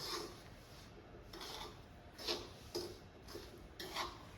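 Ground vegetarian sambar premix spice powder being mixed, soft dry rubbing and scraping strokes repeating at an irregular pace, faint and close with no talk.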